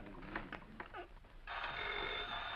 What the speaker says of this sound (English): Hey, Delroy, run down and tell your ma to answer Miss King's phone.